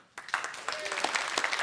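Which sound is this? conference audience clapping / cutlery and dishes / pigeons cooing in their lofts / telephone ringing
conference audience clapping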